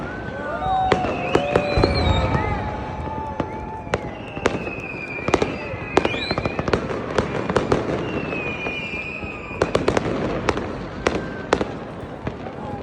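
New Year fireworks in Tashkent crackle and pop repeatedly with sharp bangs and whistling rockets, amid a distant crowd murmur.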